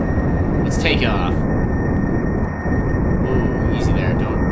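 Spaceplane engines roar steadily at takeoff in Kerbal Space Program, a dense, loud broadband rumble filling the whole stretch with a high whine on top and a couple of brief rising whooshes.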